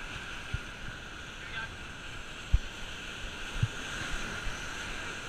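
Ocean waves surge and wash against rocky shoreline while fishing for mulloway, a continuous windy roar of surf with occasional knocks and thumps, fairly faint, with people talking intermittently under it.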